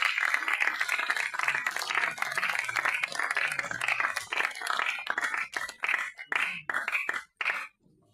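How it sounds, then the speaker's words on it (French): Audience applause greeting an expert and trainer introduced on stage, dense broadband clapping sustained for several seconds, then thinning into scattered claps before fading out. "Sous vos applaudissements, s'il vous plaît"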